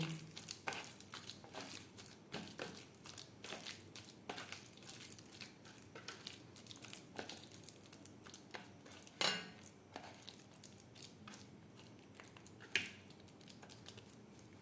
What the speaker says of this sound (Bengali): আলু বেশ ভালো করে মেখে নেব